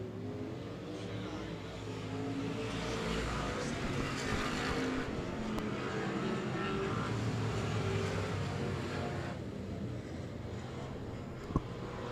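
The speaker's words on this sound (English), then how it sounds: "side-by-side racing going into 3 and 4 as Armandia now pulls just ahead of Dwayne T" Race cars run side by side on an oval track, a steady, fairly distant engine roar that swells slightly in the middle, heard as in a broadcast.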